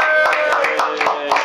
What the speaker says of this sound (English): on applaudit un peu Monsieur John Carney